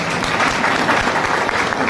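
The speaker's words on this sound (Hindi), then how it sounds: "जोरदार ताली बजा के उनका स्वागत करते" Loud burst of applause from an audience at a Hindi political rally, welcoming seated village heads, dense steady clapping for about two seconds with no talk over it.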